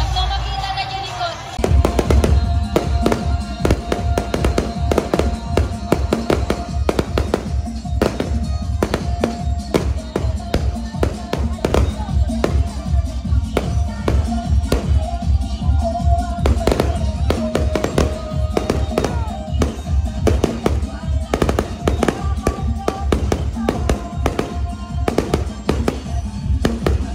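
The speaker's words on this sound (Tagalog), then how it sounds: "Yung fireworks, no?" Fireworks bursting in a rapid, dense series of sharp cracks and booms at a barangay celebration, continuing for the whole stretch with faint voices in the background.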